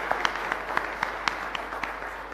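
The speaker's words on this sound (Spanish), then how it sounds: "Un fuerte aplauso para todos ustedes." Congregation applauding at a Mass in a chapel, a modest round of hand claps with individual sharp claps standing out over a steady hum, fairly distant and not very loud.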